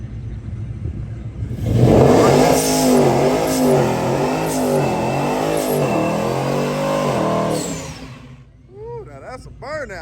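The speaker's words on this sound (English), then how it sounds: "That's a burnout right there" Car doing a burnout at a race track among twin-turbo Hellcats, Trackhawks and a Ram TRX, a loud sustained engine roar with wavering revs that holds for several seconds then cuts off abruptly, followed by faint whistling and chatter.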